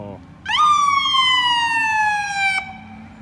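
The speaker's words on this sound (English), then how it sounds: "Oh, it's the sirens. I know they're loud." A fire truck siren carrying Santa swells in loud and close, holding a steady wailing tone for about two seconds before cutting off, over a rumbling engine and background chatter.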